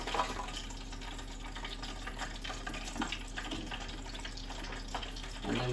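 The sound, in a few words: battered cod frying in scalding hot fat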